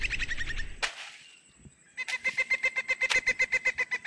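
A chicken clucking before being released, a fast run of loud, close clucks at the start, a sharp rustle, then a rapid, evenly pulsed burst of squawking cackles.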